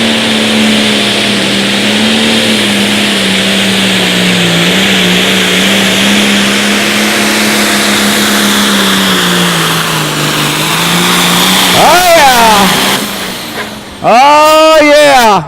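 A light limited pro stock pulling truck at an outlaw truck pull in Wisner, Nebraska, roars loudly with a sustained, steady engine drone. Near the end the pitch swoops as the engine revs up and down.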